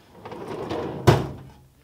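A desk drawer in a home office planning space slides open with a soft rumble, ending in one sharp thunk near the close, with no talk.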